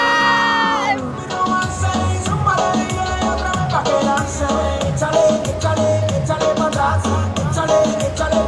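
Crowd shouting and cheering with whoops and yells, loud and continuous over a steady musical backdrop, the roar swelling in waves throughout.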